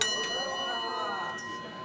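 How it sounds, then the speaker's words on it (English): Bright bell-like chimes ring out at a church gathering in Kauai, their sustained tones layered over a murmuring room with people talking nearby. "We all know what the beautiful chimes mean"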